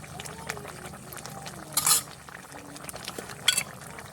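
Goose meat browning with spices in a pan gives a quiet sizzle under soft stirring scrapes, with two brief metallic clinks of a utensil against the pan.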